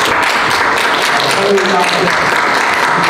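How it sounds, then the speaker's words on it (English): Applause rises at a council meeting, a steady wash of clapping filling the room while a voice keeps speaking over it. "I want to give them applause for what they've done."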